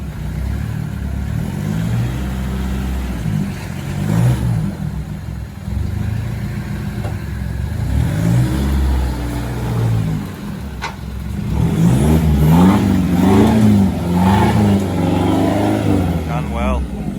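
A 4WD engine labours and revs while towing a Toyota Hilux with a broken CV joint up a rough forestry road, rising and falling in pitch and getting louder toward the end, with voices talking over it.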